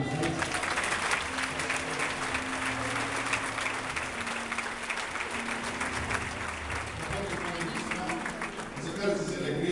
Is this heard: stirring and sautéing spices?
no